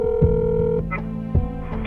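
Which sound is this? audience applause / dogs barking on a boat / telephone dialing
telephone dialing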